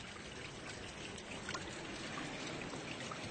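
Cool spring water trickles steadily out of the ground along a fault line on a hike at Camp Bowie, a continuous soft rushing wash that stays even throughout with no voices.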